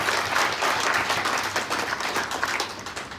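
Audience at a leadership program seminar clapping, a steady dense wash of applause from many hands that continues evenly without a break.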